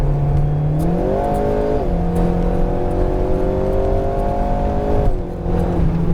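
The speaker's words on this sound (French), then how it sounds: "Et tu peux remettre en gaz." An Alpine A110R sports car accelerating hard on a race track at Lohéac, engine droning loud and close with rising pitch through gear changes, a brief dip near the end before pulling again.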